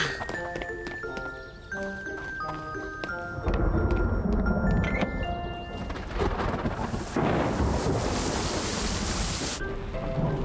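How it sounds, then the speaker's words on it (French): A light tinkling melody gives way to a loud, steady rush of heavy rain with low rumbling, filling the scene without any voices. "il pleut vraiment"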